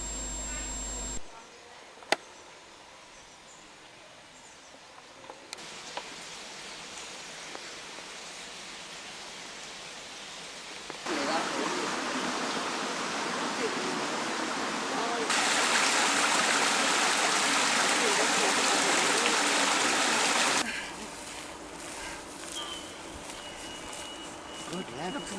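Stream water rushes steadily by the old Spenrig water mill, a broad hiss that shifts in loudness as the position changes, with occasional clicks and handling bumps.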